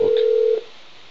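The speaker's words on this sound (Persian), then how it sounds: "الان من الان زنگ زدم با این تلفن" A steady telephone dial tone hums for about half a second, loud and alone, then cuts off into a faint hiss, heard on a phone handset during a call placed on a Persian-language call-in TV show.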